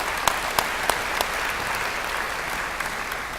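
Audience applause at the Dothan Business Hall of Fame evening event, steady dense clapping from a crowd with a few sharper claps standing out early, holding at a fairly even level throughout.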